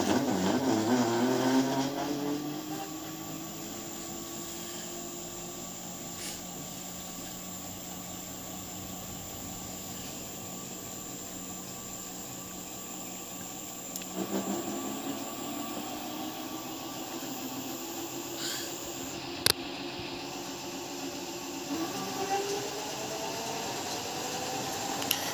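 PMG generator driven by a motor rising steadily in speed toward high RPM, a continuous whining hum with tones sweeping upward in two stages, steady and moderately loud with no talk.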